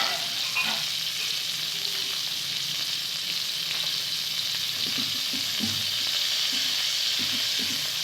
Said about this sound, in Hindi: हल्का सा फ्राई करेंगे इसको।